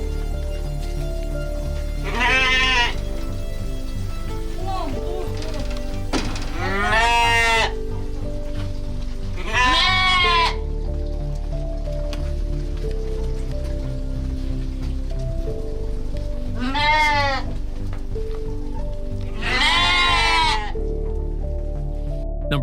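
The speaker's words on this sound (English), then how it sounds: "Number 4, sheep." Sheep bleat loudly in a forest setting, five drawn-out wavering calls spaced a few seconds apart over a steady background hiss like light rain.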